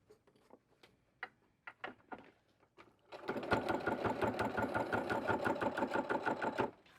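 A sewing machine stitches binding onto a dish mat being made into a crossbody bag, starting after a few scattered clicks and handling noises and then running steadily and loudly in a fast, even rhythm until it stops.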